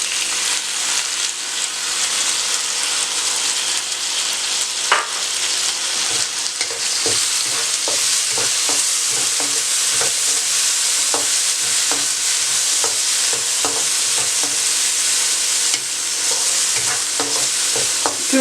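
Chillies and tomatoes fry with spices in hot oil for moong dal khichdi. There is a loud, steady sizzle throughout, broken up by repeated stirring scrapes in the pan.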